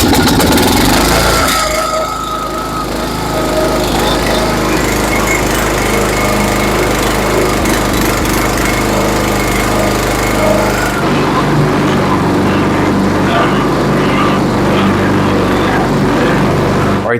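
A walk-behind lawn mower engine with a newly replaced carburetor roars loud and close, running steadily for the whole stretch with a slight change in tone partway through.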